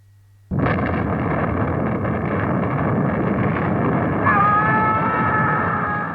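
A bomb detonates in a sci-fi film, bursting in abruptly from near silence into a loud, sustained roar that rumbles on with a ringing tonal wash near the end.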